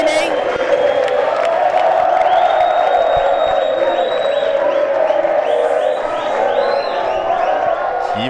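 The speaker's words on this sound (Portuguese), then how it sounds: "que ovação aí" Spectators at a beach tennis match give a loud, sustained ovation with cheering and whoops, the roar holding steady throughout while whistles and shouts rise above it and a commentator talks over the crowd.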